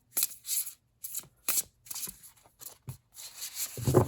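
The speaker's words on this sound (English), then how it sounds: "Let's give it one more shuffle." A deck of hollow-foil tarot cards is shuffled overhand in several quick, close riffling bursts separated by short pauses, with no talking.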